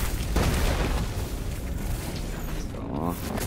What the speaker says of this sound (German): Boom, alles explodiert.